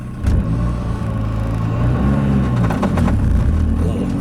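A Mazdaspeed 3 with a short shifter pulls away hard from a standstill, its engine giving a loud, steady low rumble that builds as the car accelerates, with a brief rising rev near the end and no talking over it.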